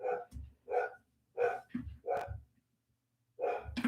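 A loud indoor dog barks repeatedly at close range, six barks in an uneven rhythm with a short pause before the last one.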